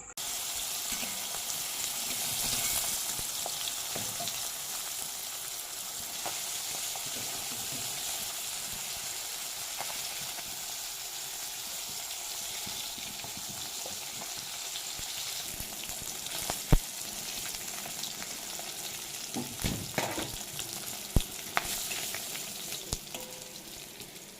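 Fish fries in hot oil in a pan with a continuous soft sizzling hiss throughout, joined later by a few sharp pops and clicks of spatter or utensil contact.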